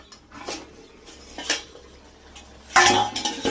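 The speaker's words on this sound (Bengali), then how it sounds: "আমি এখন আবার ঢাকাটা খুলছি।" A lid lifted off a pot of coriander chicken curry, a few light metallic clinks followed by a louder clattering knock near the end, close and otherwise quiet.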